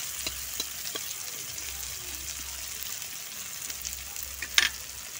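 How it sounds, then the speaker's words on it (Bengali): Green chillies and chopped onion fry in the oil left over from frying fish, a constant close hiss with faint stirring scrapes and one sharp utensil clink near the end, without any voices. "ভাজার পরে মাছের যে তেলটি ছিল ওই তেলের মধ্যে আমি দিয়ে দিয়েছি কাঁচা লঙ্কা, আর তার সাথে দিয়ে দিয়েছি পেঁয়াজ কুচি।"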